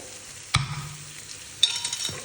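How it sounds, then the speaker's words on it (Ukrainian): Vegetables for borscht sizzle softly in a pan while a utensil scrapes and clacks against it twice. "коли овочі вже почали підсмажуватися, я додаю томатну пасту."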